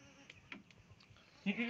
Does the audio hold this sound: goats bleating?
yes